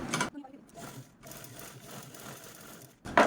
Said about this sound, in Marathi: बरोबर सेंटरला आपल्याला हे जे हँडल आहे ते स्टिच करून घ्यायचे आहे